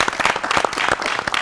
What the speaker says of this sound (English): I think we should all applaud.